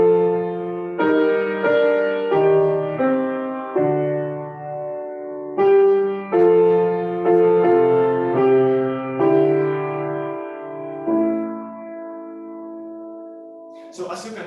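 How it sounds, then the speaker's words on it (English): Unaccompanied voices sing in close polyphony in Monteverdi's Sestina, the fourth madrigal from his sixth book of madrigals. The phrases are sustained and blended, with several chord changes, and the last chord is held long and fades away. "This is the fourth madrigal of the sixth books of madrigals, more known as the Sestina."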